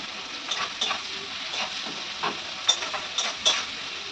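Onions fry in a pan for a Bengali biryani, with a steady close sizzle and hiss broken by occasional stirring scrapes and small clinks. No one is talking.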